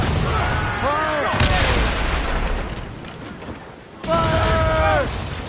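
Ship cannons firing in the Assassin's Creed Rogue video game: loud, broadband booms and blasts go off throughout, mixed with voices shouting orders over the battle.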